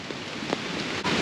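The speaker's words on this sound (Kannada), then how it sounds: "ಸಿಕ್ಕಾಪಟ್ಟೆ ಮಳೆ ಇಲ್ಲಿ." Heavy rain pours near Goyar waterfalls in Karwar, a dense, steady hiss of drops close by with no voices.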